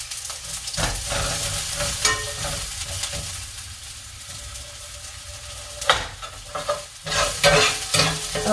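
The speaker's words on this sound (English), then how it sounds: "I cook my onions first. I'm going to get them nice and brown" Onions sizzle steadily while being browned in a pan for vegan tofu scramble, with a spoon scraping and stirring through them in irregular bursts, close and fairly loud, no voices.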